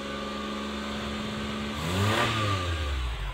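A 1985 Suzuki FX car engine idles steadily and then revs up sharply near the middle, its pitch rising and falling as the throttle is opened and released.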